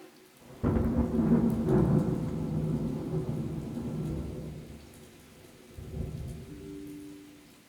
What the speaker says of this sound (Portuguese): A chuva parou.